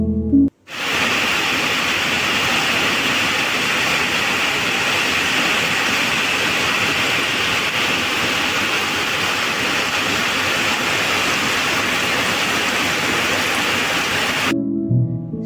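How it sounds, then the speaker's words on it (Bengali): Heavy rain pours steadily near a bus stand on the way to Sapoorji in Kolkata's Newtown, a dense, loud, continuous downpour that runs unbroken for about fourteen seconds with no voices. "এই মুহূর্তে শুরু হয়েছে অঝরে বৃষ্টি"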